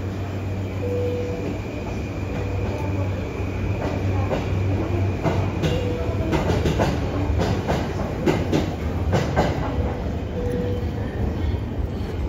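A Chuo-Sobu Line local train rolls into Shinjuku Station with clattering wheels and metallic squeals, steady rumbling throughout, with occasional sharp clicks as it slows at the platform.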